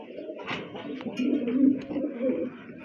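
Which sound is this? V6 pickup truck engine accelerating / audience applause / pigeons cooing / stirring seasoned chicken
pigeons cooing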